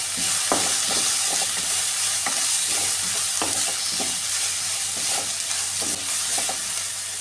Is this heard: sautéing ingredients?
yes